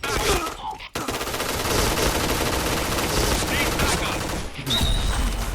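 Pink Dragon gun in Point Blank firing sustained automatic bursts at close range, loud and dense rapid shots that run almost unbroken, with a brief pause, while someone talks.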